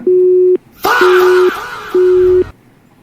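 A disconnected phone call gives a busy tone: three loud, steady, evenly spaced beeps with short gaps between them. A burst of noisy, breathy sound overlaps the middle beeps.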